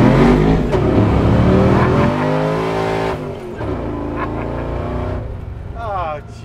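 Restored and modified 1952 Chevy Thriftmaster pickup revving hard on an empty street as it does a burnout, loud engine roar rising and falling with tire squeal, then easing off, with someone talking over it.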